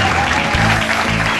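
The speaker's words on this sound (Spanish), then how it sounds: "un aplauso fuerte para el señor Tomás Silva" Audience applause for Tomás Silva after his robotics technology demonstration, a short dense burst of clapping from a nearby crowd with no voices over it.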